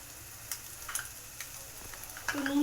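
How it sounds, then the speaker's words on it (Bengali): Scrambled egg with salt is stirred in a wok, giving a soft, quiet sizzle with several light taps and scrapes of a spatula against the metal that grow a little louder at the end. "তো নুনটা দিয়ে আমি ভালো করে এটা নেড়ে নিচ্ছি।"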